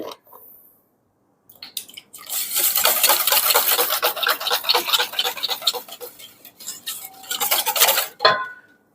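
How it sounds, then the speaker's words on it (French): A savory goat cheese and walnut tart filling is stirred briskly in a bowl, with steady, close clinking and scraping of a utensil against the bowl's sides lasting several seconds, and no talking. "Je vais venir remuer un petit peu."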